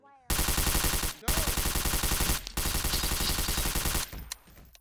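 Rapid automatic gunfire from weapons in Garry's Mod, loud close bursts in three long strings separated by brief gaps, ending in scattered clatter.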